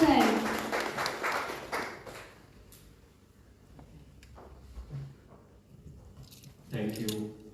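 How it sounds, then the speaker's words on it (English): Audience applause for a guest of honour at a formal ceremony in Dubai: a loud burst of clapping that fades within about two seconds, followed by a lone voice speaking over a quiet room. "Give a huge round of applause for our Dr. Hirosan."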